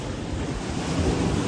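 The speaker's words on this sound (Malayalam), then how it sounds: "കുറച്ച് കടലടി കൂടിയ ഏരിയസിലോട്ടാണ് നമ്മുടെ ബ്രോ പോയി നിൽക്കുന്നത് കേട്ടോ." Sea waves wash onto the Kerala shore during lobster fishing, a continuous roar of surf mixed with wind buffeting the microphone, heard close and with no voices.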